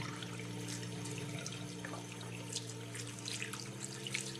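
Aquarium carbon being rinsed under a running kitchen tap, a steady broadband rush of water with small splashy spikes, fairly close and continuous with no talking.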